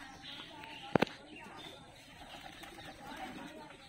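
Pigeons cooing at close range among a flock kept by a pigeon keeper, soft low murmuring calls under faint background noise, with one brief sharp click near the start.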